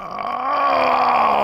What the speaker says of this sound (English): Oh, and here comes that yawn.